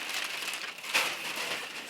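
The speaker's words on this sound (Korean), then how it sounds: "비닐을 샥 제거해주고요" Plastic film being stripped off a boxed Hot Toys Avengers: Endgame Thanos figure, a steady close crinkling rustle with a brief louder crackle midway.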